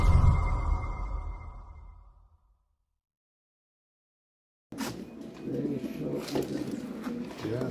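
A racing pigeon of Jansen bloodline coos up close in a loft, a throaty rumbling call that fades into silence before wing flutters and rustling noises resume.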